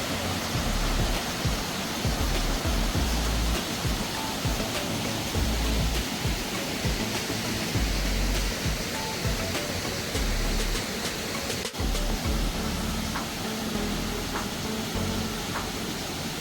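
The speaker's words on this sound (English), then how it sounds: "you're greeted by the sight and sound of the main falls, cascading over rocky ledges" Gooseberry Falls pours over rocky ledges in a steady, dense roar of rushing water, loud and unbroken throughout with no voices.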